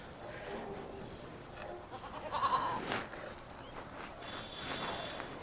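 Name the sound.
goat bleating, tied at the door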